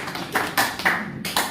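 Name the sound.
audience clapping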